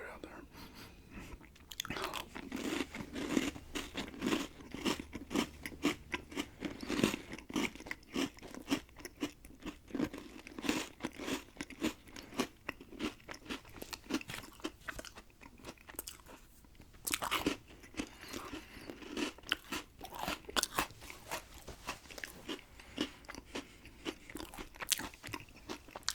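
A peanut butter snack is crunched and chewed close to the microphone in a long, quiet, irregular series of crisp bites and wet chewing.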